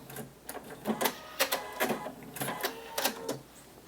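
A sewing machine stitches closed the opening of a zippered fabric bag, giving quick rhythmic bursts of needle clatter close by, in short uneven runs with brief pauses.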